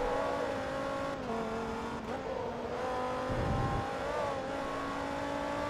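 In Forza Motorsport 2, a race car engine holds a loud, continuous whine. Its pitch shifts slightly with brief dips for gear changes, it sounds close and constant, and no one speaks over it.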